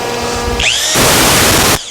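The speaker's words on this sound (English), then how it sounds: "Put it on the end of a DeWalt drill." A DeWalt cordless drill spins a spindle crank adapter on a Bridgeport mill, giving a loud, close whine that winds up, then a harsh, broadband grinding roar for about a second before cutting off abruptly.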